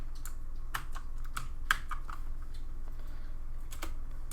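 Computer keyboard clicking at close range while Photoshop Elements shortcuts are entered, a sparse run of separate key presses with uneven gaps between them.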